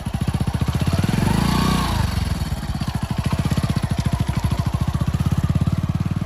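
A motorcycle engine putters steadily with a rhythmic thumping beat, revving slightly as it rides slowly over a muddy, slippery road nearby.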